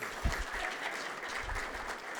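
An audience at a leadership reception and economic outlook event applauds its sponsors, with quiet, sustained clapping and a few sharper claps standing out early.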